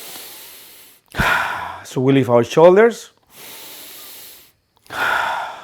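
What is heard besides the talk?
shallow chest breathing demonstration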